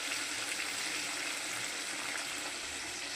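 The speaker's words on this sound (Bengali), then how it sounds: "এবার জল দিয়ে দিচ্ছি" Water poured into a pan of mutton kosha, the spiced meat already browned with oil separating at the edges; a steady, close rushing splash runs continuously without pause.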